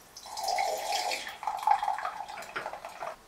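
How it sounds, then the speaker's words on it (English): A homebrewed kveik pseudo lager, brewed with Lutra kveik yeast, pours from a fermenter into a sample glass as a steady, close trickle and splash that runs for about three seconds with a brief break partway. "So I'm going to pour off a sample now"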